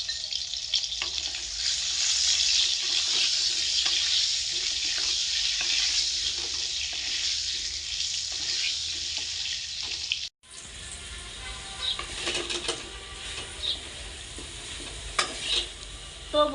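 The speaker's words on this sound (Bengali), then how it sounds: "এখন এই মাছ ভেজে নেওয়ার তেলে আলু ভেজে নেব।" Potatoes fry in fish-frying oil seasoned with salt and turmeric, giving a steady close sizzle that breaks off briefly midway, then resumes with lighter crackles and occasional stirring clinks.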